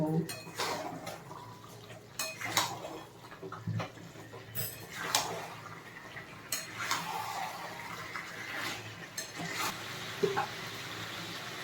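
Mutton curry stirred in a covered pot, with irregular scraping and clinking of a utensil against metal, lid knocks and soft kitchen sounds under a speaking voice.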